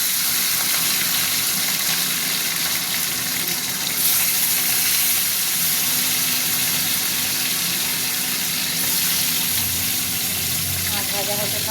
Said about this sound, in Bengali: মাছ ভাজা হতে থাক